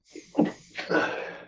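A single sneeze in a podcast conversation, a sharp inhaled burst followed by a louder explosive release, close and fairly loud, with no talk over it.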